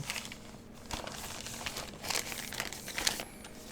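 A package is opened with scissors amid close crinkling and tearing of wrapping material, with irregular rustles and snips that come and go.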